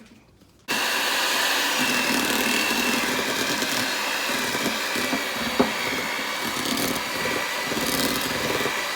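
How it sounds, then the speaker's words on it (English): An electric mixer blends sopapilla cheesecake filling. After a brief quiet moment it switches on abruptly into a loud, steady, close whirring drone that holds evenly to the end. "I'm gonna blend it with my electric mixer"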